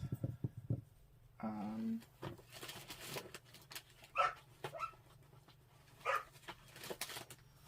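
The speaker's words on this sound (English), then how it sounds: "The puppy is playing. Apologies for the noise." A puppy yips, whimpers and pants while playing nearby, with short bursts of small barks and soft squeaky noises scattered throughout.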